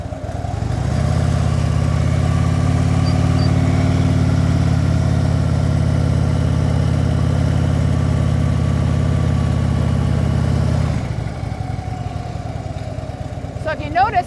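A motorcycle engine idles steadily and close up through a slow 24-foot U-turn with the throttle held at preload and the clutch in the friction zone, then drops away near the end.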